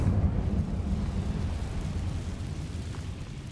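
The Incendio fire spell in Hogwarts Legacy erupts as a deep, rumbling roar like a burst of flame, steady and loud throughout with no distinct onset, close and alone.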